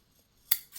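Scissors snipping through an embroidery floss tassel up close, two quick faint crisp cuts in near silence.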